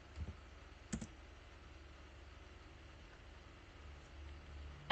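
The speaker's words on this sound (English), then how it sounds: "type Java version" A computer keyboard tapped at a Windows command prompt, a few faint scattered clicks in a quiet room with a brief burst of keystrokes at the end.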